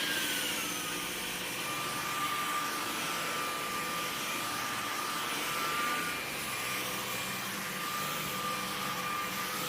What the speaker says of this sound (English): Okay, so I'm going to turn the vacuum off.